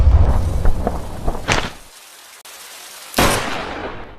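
A gunshot in a film fires as two sharp, loud broadband cracks, the first about midway and the second near the end, separated by a moment of near silence.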